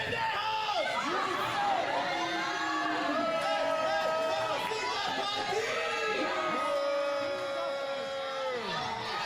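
A crowd fills the Gaines County Civic Building in Seminole, Texas, at a fight night, cheering and whooping in a dense, continuous roar, with voices talking over it throughout.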